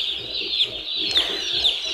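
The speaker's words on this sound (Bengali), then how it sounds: "এসিআই কোম্পানির ব্রয়লার মুরগির বাচ্চা বিক্রি করা হচ্ছে" Broiler chicks at a market cheep in high, thin peeps, several bright chirps repeating roughly every half second over a busy crowd of chicks.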